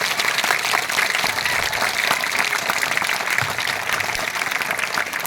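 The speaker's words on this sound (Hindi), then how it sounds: "एक बार अपनी तालियों की गड़गड़ाहट के साथ इस दिन का स्वागत करेंगे," Audience at a school Independence Day celebration breaking into loud, sustained applause, many hands clapping in a thick continuous wash from a large crowd, no speech over it.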